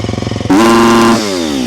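Triumph motorcycle revved hard for a roadside sound meter check: a few quick idle pulses, then a sudden loud sustained high-rev howl that drops to a lower droning rev near the end.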